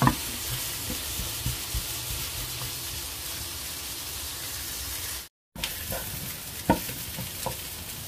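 Cabbage, corn and banana sautéing in a pan, a steady broad frying hiss with occasional stirring clatters and scrapes, briefly cut by a short silent gap midway.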